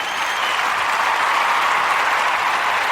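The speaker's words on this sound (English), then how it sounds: "you can hear the crowd cheering in the background" A crowd cheering and applauding, played as a sound effect from a phone app, a dense, steady roar of many clapping hands and voices holding constant for the whole stretch with no break.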